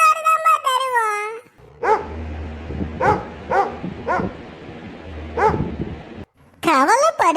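A cartoon dog barks in a series of sharp, loud yaps, five or six evenly spaced, with brief cartoon voices or whines before and after.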